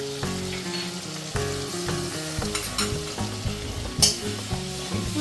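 Ginger, onion, garlic and spice paste frying in oil left from searing chicken for chui jhal chicken, a steady sizzle with scraping stirs and clinks of a spoon against the pan, music playing underneath.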